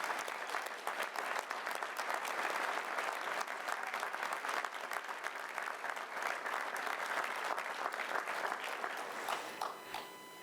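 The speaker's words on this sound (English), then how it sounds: "Please join me in a huge round of applause for our Reno firefighters and Chief Dave Cochran." Sustained, dense applause fills a civic State of the City gathering in Reno, honoring the city's firefighters and their fire chief; steady clapping from a large crowd for about ten seconds, tapering slightly at the end.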